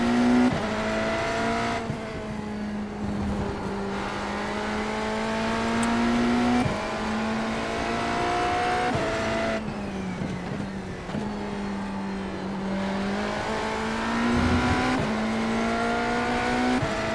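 BMW race car lapping Road America, its engine revving up and down through gear changes in a loud, steady in-car drone with no voices over it.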